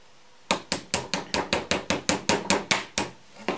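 A small hammer taps a punch to drive pins out of a Bosch impact driver, about fifteen crisp metallic taps in a steady quick rhythm, close up and alone.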